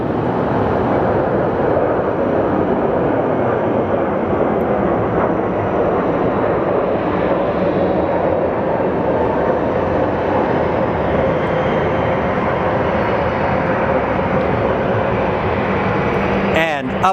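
An Alaska Airlines airliner at Phoenix Sky Harbor Airport gives a loud, steady jet roar that fills the whole stretch without letup, close and powerful from start to finish.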